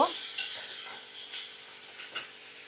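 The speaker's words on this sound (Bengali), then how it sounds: "তো সমস্ত মশলা আমি ভালো করে ভাজা করে নেব" Soft sizzling of ground cumin and spices frying in a pan with a few light scrapes of a spoon stirring, steady and fairly quiet with no voices.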